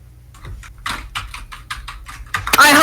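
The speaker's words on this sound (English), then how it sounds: "I actually want to hear you type." Rapid keystrokes on a computer keyboard, a dense run of clicky taps at close range, growing louder and busier toward the end, with no talking.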